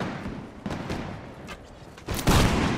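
Gunfire from the multiplayer game Mount & Blade: With Fire & Sword, with a few scattered distant shots followed by a louder, denser burst near the end over a steady battle din.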